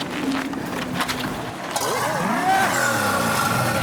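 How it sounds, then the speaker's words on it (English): A GTD GT40 replica with a 5-litre V8 being bump started: the engine catches partway through and rises into a loud, rough revving rumble with wavering pitch, preceded by rolling noise and voices. "It's got the 5-litre V8 and the starter motor died, so they're going to need to bump start it."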